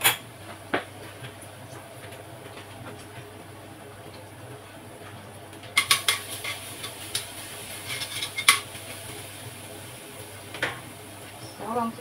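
Garlic cooks in a pan for sweet and sour pork chops, giving a low steady sizzle, with sharp bursts of utensil scraping and clattering against the pan midway and occasional talk.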